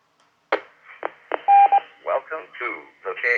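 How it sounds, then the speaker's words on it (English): A UHF ham radio repeater transmission comes through a radio: a sudden burst, short steady beeping tones, then a filtered, radio-sounding voice, fairly loud and close. "You hear the repeater?"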